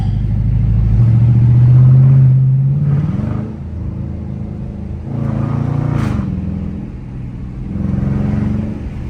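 A Dodge Charger R/T engine drives through a residential valley road, rumbling loudly with a strong low revving pull early on, then easing and swelling again in waves, with a brief sharp pop partway through.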